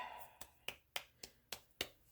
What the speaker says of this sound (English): I don't know why I'm clapping.